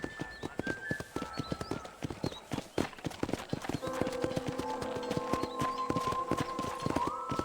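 Horses at a corral in the video game Red Dead Redemption: a close, busy clip-clop of hooves with uneven rhythm and the occasional whinny, while sustained tonal music enters partway through and speech is faintly present.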